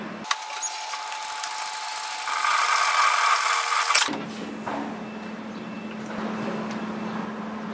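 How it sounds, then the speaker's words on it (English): A sewing machine stitches a 6 mm (1/4 inch) seam with a steady whirring motor run lasting about four seconds, then drops to a quieter low hum. "So we're going to sew these together in a 6 mm, 1/4 of an inch seam."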